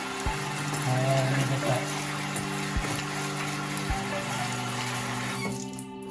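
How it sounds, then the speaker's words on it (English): Hands washed under a steadily running kitchen water tap, a continuous close hiss and splash of flowing water with a few brief clatters, and a voice speaking briefly over it before the flow stops near the end. "You want to wash my hands real quick?"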